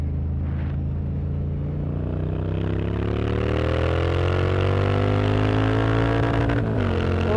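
A 2018 Triumph Street Scrambler motorcycle revs hard in second gear, the engine note climbing steadily in pitch over several seconds as it pulls through the range, close and continuous, then briefly cutting back near the end.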